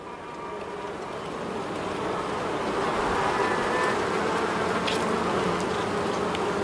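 Honeybees buzzing around an open beehive during an inspection, a dense, continuous drone that swells slightly and holds steady close by, with no speech.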